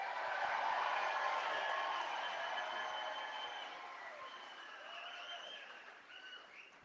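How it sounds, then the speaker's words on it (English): Crowd at a political rally in Sudbury, Ontario applauds in a broad wash of clapping and cheering heard from a distance, fading gradually with a few calls near the end. "Let's have a hand of applause for Dr."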